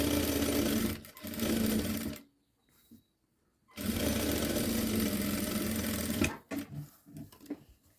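Sewing machine stitching the hem of a child's garment, running in loud steady bursts, stopping for about a second and a half midway, then starting again and ending in short, broken runs.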